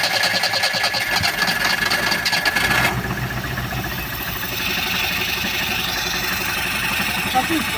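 An Opel Corsa engine runs at a steady idle with a buzzing, even rhythm, close by, while someone talks over it.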